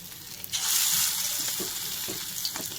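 Bhetki fish pakoras hiss in hot oil, the frying swelling into a loud, steady sizzle as pieces are dropped in one by one, with soft bubbling and no talking.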